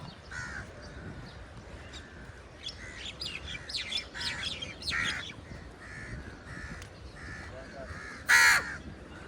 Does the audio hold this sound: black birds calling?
yes